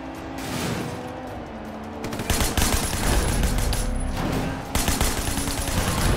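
Rapid bursts of automatic gunfire in the video game Sleeping Dogs, a loud, dense fusillade of overlapping shots that runs almost continuously, with brief lulls, and no speech over it.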